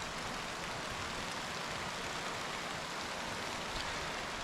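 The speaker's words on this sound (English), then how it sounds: "It's not supposed to rain, and it's picking up if you can hear that." Steady rain falls on and around a camping truck, a dense, even hiss that stays loud and constant with no voices.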